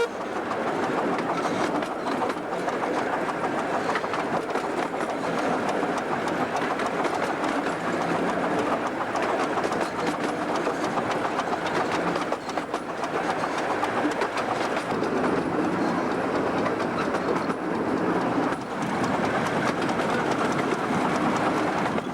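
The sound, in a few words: train running on a single track line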